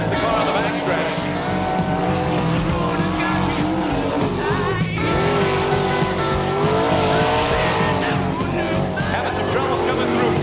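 A sprint car roars around the dirt oval at Eagle, Nebraska in an All Star Circuit of Champions race, its engine a loud, continuous high-revving howl that holds steady for the whole stretch, with a brief dip and swell partway through.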